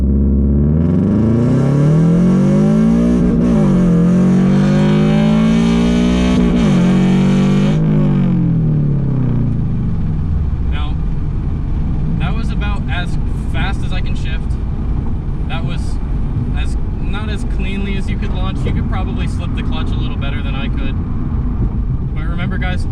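A modified 2022 Subaru BRZ launches hard on a 0-60 run, its engine revving loud and rising for several seconds before the sound drops into road and cabin noise, with a voice talking over the later part.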